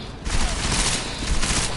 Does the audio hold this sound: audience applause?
no